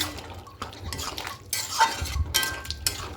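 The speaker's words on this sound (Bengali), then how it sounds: "খুব ভালো করে মিশিয়ে নেব" A spoon mixes garam masala powder and ghee into a vegetarian potato and pumpkin curry in a pot off the heat, making repeated close scraping and clinking strokes over a faint leftover sizzle.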